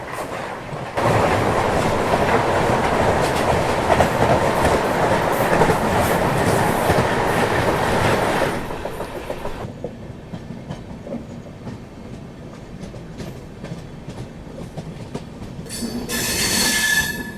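Sanghamitra Express running loud and steady with rolling wheel noise for several seconds, then easing down to a quieter, slower rumble with faint clicks before a brief hiss near the end.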